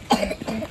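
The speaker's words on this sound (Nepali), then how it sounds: "खोकी फेरि लाग्नु सुरु भयो" A single short human cough, close and fairly loud, with a slight throaty rasp as it trails off.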